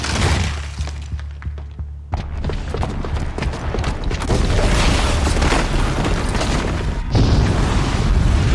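A booby-trapped bomb goes off in the video game Horizon Zero Dawn: a loud booming blast with shattering debris and rumble that keeps roaring for several seconds, with no talk.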